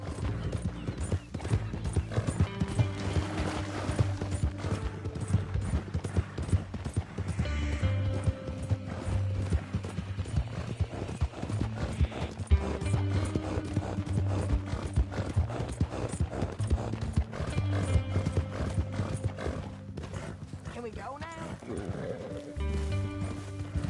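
In the video game Red Dead Redemption 2, steady clip-clop of horse hooves trotting under a continuous low rumbling and mechanical clatter, with a brief whinny-like sound near the end.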